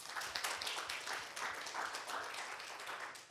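An online Sunday church congregation applauds, giving sustained clapping from many hands at a faint, distant level with no speech over it.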